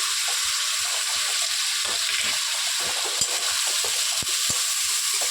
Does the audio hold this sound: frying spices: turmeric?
yes